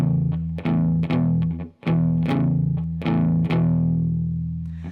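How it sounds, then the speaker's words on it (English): Distorted electric guitar plays a blues rhythm pattern, open low E with palm muting, in a steady repeating shuffle of chugging chords with a brief gap, loud and alone. "go down to a blues rhythm pattern that's gonna sound like this."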